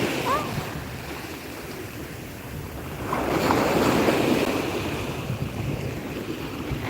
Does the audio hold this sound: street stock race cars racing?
no